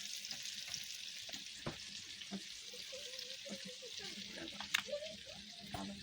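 Chicken leg pieces fry in a pan at an outdoor family picnic, making a quiet, distant sizzle with scattered clinks and faint background noise.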